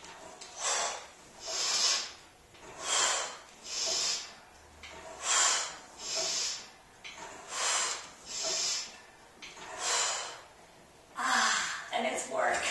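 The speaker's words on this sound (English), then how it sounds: "you inhale back, and exhale, squeeze under. It's kind of a forceful exhale" Forceful, rhythmic breathing during Pilates reformer knee stretches: about eight sharp, hissing exhales recur every second or so, close and clear, with nothing else over them.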